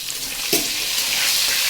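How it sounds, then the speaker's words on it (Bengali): Food frying in mustard oil with turmeric, salt and chilli powder gives a steady close sizzle, with a few spoon scrapes against the pan and no voices. "তেলে ভাজবো হলুদ লবণ আর লঙ্কার গুঁড়ো আর সর্ষের তেল দিয়ে আমি"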